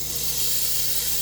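Steady broadband hiss of steam rising from a burger searing on a Kenyon City Grill, continuous and fairly close with no talk.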